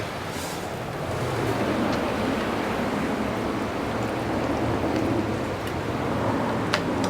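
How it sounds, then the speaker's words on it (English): Steady rain pattering outdoors, a continuous soft hiss of drops with a low rumble underneath and a few sharper ticks, constant throughout with no speech. "the pitter-patter sound of rain"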